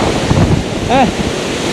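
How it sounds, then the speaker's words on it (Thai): Strong wind drives waterfall spray at a national park campsite, a steady roaring rush of air and water blasting close against the microphone, with a brief whistling tone midway. "เปียกมาแล้วนี่แรงลมนะครับ แรงลมแรงละอองน้ำนะครับปิวมาครับ"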